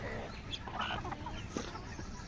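Several guinea fowl and chickens cluck and chatter nearby on a poultry farm in a busy, continuous jumble, with occasional sharper squawks over a steady outdoor background.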